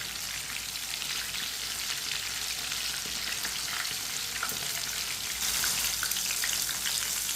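Chicken frying in a pan with a dense, crackling sizzle like heavy rain on a surface, steady and close throughout, growing a little louder near the end, with no talking.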